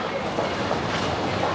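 A train on the Japanese rail network rolls along its rails, a steady close rumble and rattle of wheels with faint clicks and no clear break.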